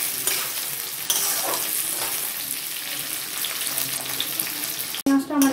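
Capsicum and green chillies frying and being stirred in a pan for homemade chili chicken: a steady, close sizzle runs throughout, and a brief clatter breaks in near the end.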